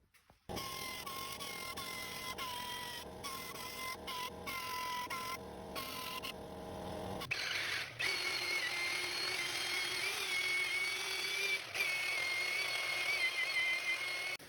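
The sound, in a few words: small sander smoothing stainless steel exhaust welds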